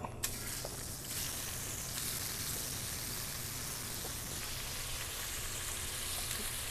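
Shrimp searing in hot olive oil in a big sauté pan, a steady, dense sizzle and crackle filling the clip close up, with no voices.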